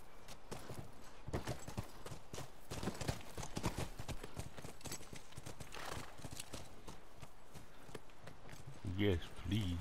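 Rhythmic hoof clip-clops from horses moving at a steady pace in the video game The Last of Us Remastered, with talking throughout and a short burst of harmonic tones near the end.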